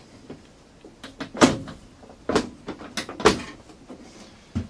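A DragonFire Racing aftermarket door on a Polaris RZR XP1000 side-by-side is swung shut and opened, giving several sharp latch clunks and rattly thuds close by, with quieter handling knocks between them.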